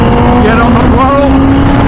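An MV Agusta F4 Senna motorcycle engine pulls hard on the throttle from about 6,000 RPM through the gears at speed. A loud, close, rising engine howl mixes with heavy wind rush.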